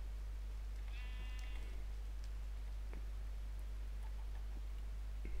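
A single short sheep bleat from Minecraft's Agrarian Skies 2 modpack sounds once near the start, over a steady low hum and a few faint ticks, with no talking.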